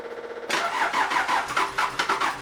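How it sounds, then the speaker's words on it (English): A Land Rover Defender 90 engine, idle for more than a decade, is turned over by a modified starter: a sudden loud cranking begins after a short quiet lead-in, with a rhythmic pulsing whir that continues without firing. "let's see if the modified starter is now going to turn the engine"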